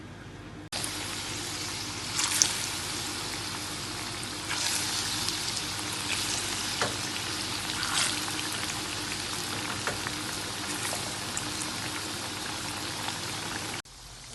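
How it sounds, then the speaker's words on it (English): Plantains fry in hot oil in a pot on medium heat, giving a steady, dense, loud sizzle that holds evenly from start to finish, with occasional sharper pops and crackles. "I've got my pot on the fire with oil, and it's on medium heat, and I'm just gonna add my plantains in"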